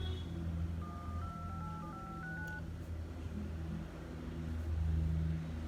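A rapid series of short keypad dialing tones from the phone app on a Samsung Galaxy S3 running Android 10, faint and stepped in pitch over a low engine-like rumble.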